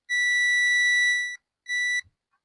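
An AAT Solo electric wheelchair gives two electronic beeps, a long steady tone of over a second followed by a shorter one, loud, clear and alone.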